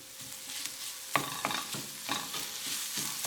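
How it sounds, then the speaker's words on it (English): Shallot and bacon, with garlic, sauté in a pan: a steady frying sizzle under repeated scraping stirs of a utensil, close and fairly loud, with no voices. "Saute for another 2 minutes."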